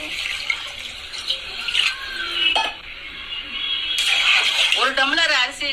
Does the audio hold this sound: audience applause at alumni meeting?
no